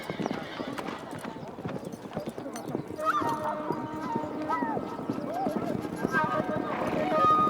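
Horses' hooves clip-clopping during horse training in Mongolia, with several neighs and whinnies rising over the hoofbeats; a voice talks underneath throughout.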